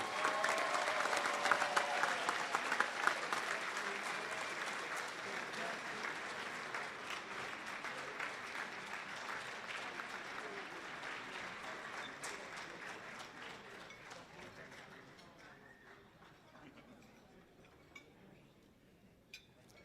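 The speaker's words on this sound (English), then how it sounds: "Ladies and gentlemen, a round of applause for Kevin Doherty." Audience applause at a county coaches hall of fame awards ceremony, a dense crowd clapping loudly at first and then thinning and fading over about twenty seconds, with faint clinks of dishes and cutlery in the room.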